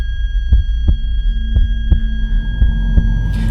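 Thudding heartbeat in a horror narration, a lone pulse of about seven low beats, roughly one every half second, throbbing over a steady droning hum with no voices.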